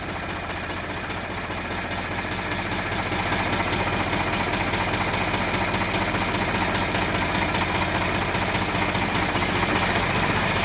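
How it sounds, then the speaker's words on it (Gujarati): An Eicher 368 tractor with a Ricardo engine runs steadily at idle, a continuous close, loud diesel chug with a rapid knocking rhythm that holds for the whole stretch with no one talking. "368 પાણી વગરનું રિકાર્ડો એન્જિન પરફેક્ટ ટ્રેક્ટર આવ્યું છે"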